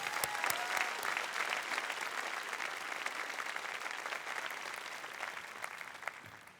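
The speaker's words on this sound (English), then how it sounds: "let's applaud Roy for his leadership and stewardship" Sustained applause from a large commencement audience, steady dense clapping at full volume throughout with no talk over it.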